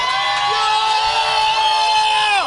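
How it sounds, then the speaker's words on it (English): A crowd at the Meyer Theater cheers and whoops for Green Bay Packers receiver Donald Driver at a Super Bowl DVD release party, loud sustained shouting and yelling with a few high voices rising above the roar. "They are cheering for the man"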